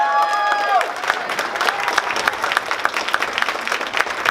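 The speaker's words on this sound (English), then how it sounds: "Let's give Trish another round of applause." Audience applause at a volunteer appreciation luncheon in Palmdale: a brief tone at the start gives way to steady, moderately loud clapping from a roomful of people, with a few cheers mixed in.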